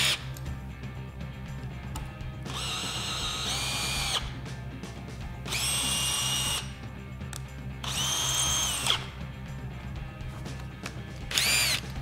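A cordless power drill whines in four separate bursts as it drives Caliburn concrete screws, each run rising in pitch, loud and close, with quiet gaps between and no speech.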